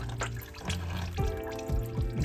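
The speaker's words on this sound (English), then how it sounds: "So I'm gonna let it drip" Engine oil drips and trickles from the drain of a 2021 Toyota Camry XSE 2.5L during an oil change, giving close, irregular liquid splashes and dribbles into a pan.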